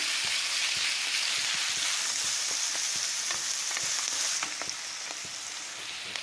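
Vegetables for veg chowmein stir-fried briefly in a hot pan over high heat, a dense, close sizzle running throughout with repeated scraping and tapping clicks from stirring, no voices.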